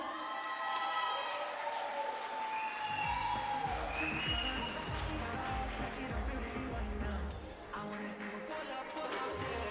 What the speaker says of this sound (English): please give a round of applause. Make some noise.